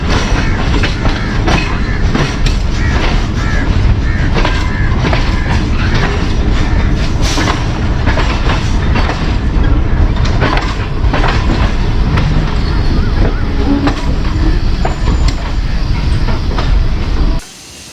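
A train at Kundian Junction railway station, with a locomotive being attached and another approaching, rumbles loud and steady with rail clatter and hiss throughout, stopping abruptly at the end.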